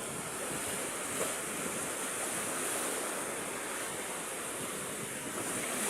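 Strong wind roars steadily alongside the broad hiss of surf by a damaged seawall, a constant seaside rush with no voices.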